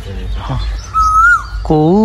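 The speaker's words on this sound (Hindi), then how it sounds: "सामने बुलबुल बैठी है बुलबुल आंदी है" A bulbul perched in a tree near a house in early morning gives a brief clear whistled call, heard between and under nearby conversational speech.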